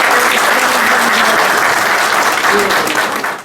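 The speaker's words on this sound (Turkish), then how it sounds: "Hanımlara bir alkış." A crowd gathered at a political party's new district office opening applauds loudly for the women, a continuous, close burst of clapping that tapers slightly at the end.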